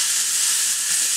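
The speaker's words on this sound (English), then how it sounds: "we're going to add the ground beef to the pan" Ground beef frying in a pan for a low-carb broccoli slaw dish, a loud, continuous sizzle and hiss close by, unbroken and with no voices.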